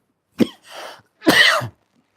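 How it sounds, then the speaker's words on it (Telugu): Two close, sharp coughs brought on by eating a coconut sweet, the first a single bark followed by a breathy rasp, the second longer and harsher, in an otherwise quiet space. "సార్ కొబ్బరి ఉండ తినటం వల్ల దగ్గు వచ్చేస్తారు"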